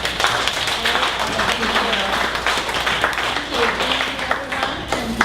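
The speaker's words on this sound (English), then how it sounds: "so everyone please give a big round of welcome and applause for Ivy of Mary Crate" An audience applauds at a morning startup pitch event in Dallas, a dense, steady patter of many hands clapping with a faint crowd murmur underneath.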